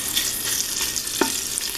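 Trimmed beef fat frying in an Instant Pot, with a steady close crackle and hiss and a sharp scrape or clink partway through, no talking.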